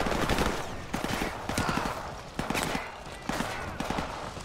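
Rapid gunfire from soldiers in the Modern Warfare Remastered video game, a busy fusillade of repeated shots and bursts filling the whole stretch at a steady moderate loudness.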